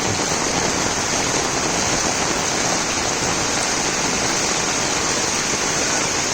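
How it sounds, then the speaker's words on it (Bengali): Heavy downpour on a flooded main road in Pabna, heard as a dense, loud, unbroken roar of rain pounding on water with no pauses and no voices. "এত বৃষ্টি হচ্ছে এটা হচ্ছে মেইন রোড মেইন রোডেই এত পানি"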